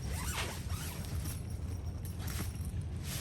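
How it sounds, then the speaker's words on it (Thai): A tent zipper is pulled closed with several quick rasping strokes, close and distinct, over low ambient background noise. "วิธีการก็คือ ปิดซิปก่อน"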